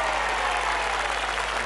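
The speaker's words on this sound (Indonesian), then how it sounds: "Kita beri tepuk tangan sekali lagi untuk Mas Arif." Studio audience applause for a performer on a game show, a dense, even wash of clapping at steady loudness throughout the short burst.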